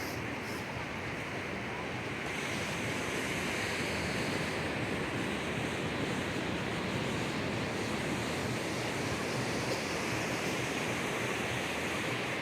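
Steady surf washes in at Rosarito Beach, Mexico, a broad continuous roar of breaking ocean waves, loud and unbroken throughout with some wind noise on the microphone.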